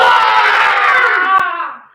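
A group of children in a classroom game shout together in imitation of a dinosaur roar, a loud, sustained, high-pitched yell that holds for over a second and then fades away.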